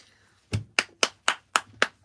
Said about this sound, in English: Round of applause for the man himself.